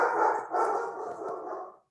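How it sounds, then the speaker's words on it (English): A dog barks and yelps close by in one continuous, fairly loud burst lasting under two seconds, with no talking. "That would be my dog."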